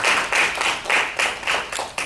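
Audience clapping in thanks to a Swami at a Shrimad Bhagavat discourse at a temple, in close, dense bursts that swell and ease in waves, with no talk over it.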